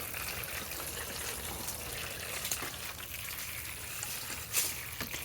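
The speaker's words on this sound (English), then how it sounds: "right now they're dry and compacted, and I'm just going to pour this water on them" Water is poured over dry, compacted peat pellets sitting in a tray, making a light, steady trickle with small splashes throughout and no speech.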